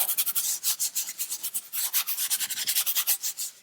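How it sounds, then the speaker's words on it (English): A brush scrubs plastic interior car trim in quick circular strokes, producing a close, rhythmic scratchy rubbing that pulses with each pass and continues steadily without talk. "Circular motion is best."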